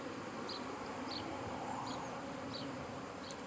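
Honey bees swarm over frames at an open hive, a steady dense buzz that stays faint and constant throughout, with no voices.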